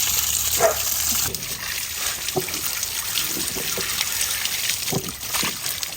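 Water runs steadily from a tap while coconut sambol is prepared in a kitchen, a continuous trickling splash that sounds louder in the first second, with faint background sounds.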